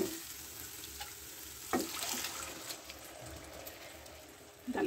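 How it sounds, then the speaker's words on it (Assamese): Lentils (dal) tipped into a pan of cooked spices give a soft, quiet sizzle, with two brief sharper splashes near the start and end. "এতিয়া মই ইয়াত দি দিম দালিখিনি"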